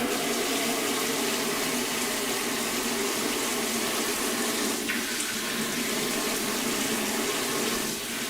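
Tap water runs steadily from a kitchen faucet over lobster tails being rinsed, a loud continuous splashing rush that fills the whole stretch with no voices.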